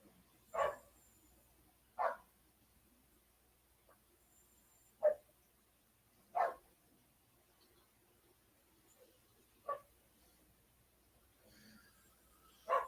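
Dogs bark during play, sounding as about six short, sharp, isolated barks spread out a couple of seconds apart, fairly faint and distant against a quiet background.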